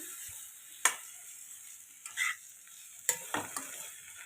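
A spoon stirs dry potato sabzi mixed with sambar masala in a pan. The scrapes come as a few separate sharp strokes with short quiet gaps between them, against a faint background hiss.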